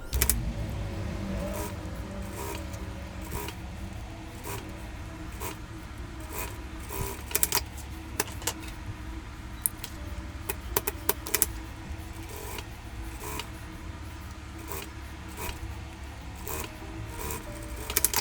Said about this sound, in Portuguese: Vou costurar.